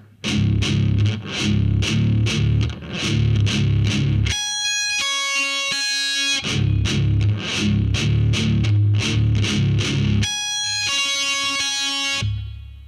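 Slow heavy metal electric guitar riff played alone and close. Bursts of chugging, distorted low notes alternate with stretches of clear high notes that ring out against each other.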